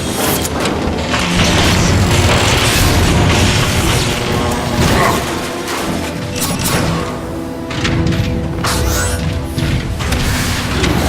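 Forcing open an access panel in Transformers: Fall of Cybertron: loud, dense metallic crashes, booms and mechanical clanks pile up continuously with sharp impacts throughout, a heavy wall of game sound effects.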